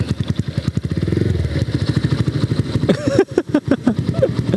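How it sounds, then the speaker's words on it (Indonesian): A Honda Vario scooter engine putters at close range, a rapid steady thrum that shifts partway through into choppier, uneven bursts of revving and clattering. "Dan saya sudah menaiki ini Vario teman saya"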